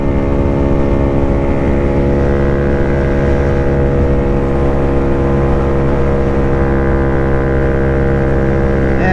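A small Honda Grom motorcycle engine drones steadily at cruising speed, loud and continuous with a rich harmonic hum and slight pitch shifts, no talking over it.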